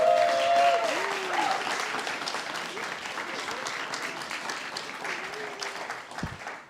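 Steady crowd applause for graduating guide dog teams at a Guide Dogs for the Blind class graduation, continuous clapping that slowly tapers, with faint voices and a brief tonal sound mixed in near the start.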